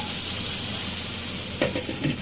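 Egg korma masala curry simmering in a pan over low heat, a steady close sizzle and gentle bubbling with faint stirring scrapes near the end.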